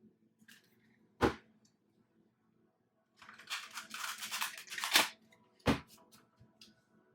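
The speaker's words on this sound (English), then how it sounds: "I'm just going to finish shuffling these and then I'm going to pick up the other deck." A deck of tarot cards being shuffled: a soft thump, then about two seconds of dense riffling and rustling, followed by a sharper tap as the cards settle. The sounds are close and quiet, with no voices.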